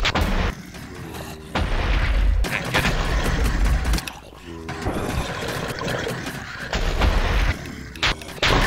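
Gunfire in the Minecraft Hypixel Blocking Dead video game: loud, booming bursts of rapid shots that stop and start in several volleys, with a person talking over them.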